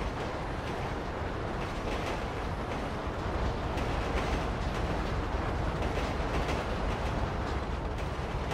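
A steady, loud rumbling roar of a moving train in Grand Theft Auto V, continuous with faint rhythmic clatter and no voices.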